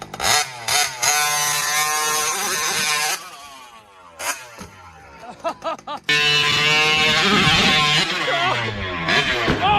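The world's largest RC car drives hard, its engine revving loudly and close in repeated rising, falling bursts with short lulls. A stronger sustained rev comes near the end.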